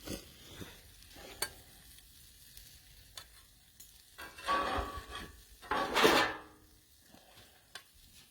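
A quesadilla fries in a pan as a spatula folds it over, giving quiet clinks and scrapes with two louder bursts of sizzle and scraping near the end, close and otherwise fairly faint.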